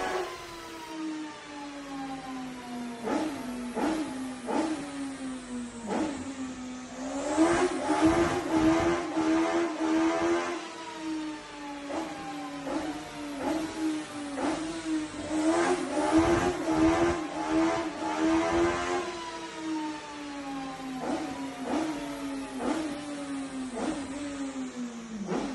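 A Rover V8 engine revving on a dyno, its pitch repeatedly climbing and falling through long sweeping revs with sharp bursts between, loud and close, with no voices.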